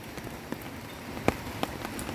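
Rain falling outdoors onto a yard with planted grass and a water barrier, a steady soft patter with a few sharper drops striking nearby, no talking.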